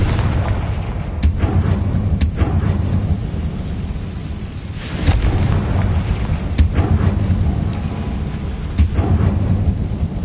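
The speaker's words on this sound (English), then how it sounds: "Confringo!" Confringo fire-blast spell explosions in Hogwarts Legacy, a string of deep rumbling booms and sharp bursts recurring over a dense, roaring game background with no pauses.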